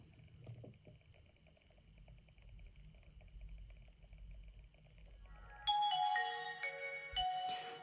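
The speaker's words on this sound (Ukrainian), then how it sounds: "Телефон включається." A Nokia N95 phone powering on: after several seconds of quiet handling noise, a short bright startup jingle of clear melodic tones plays close by, ending in a final tone.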